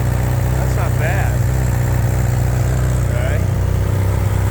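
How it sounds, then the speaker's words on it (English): A Honda CB1000R motorcycle idles with a low, steady rumbling exhaust close by, while people talk over it. "This has a little bit more of a kind of a rumble exhaust to it."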